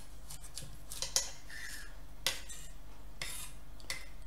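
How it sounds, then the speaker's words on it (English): A very sharp knife cuts a cauliflower on either side of the core, giving a few crisp crunching cuts and scrapes at close range with pauses in between, with no voices. "cut to either side the core like such, being careful with your very sharp knife"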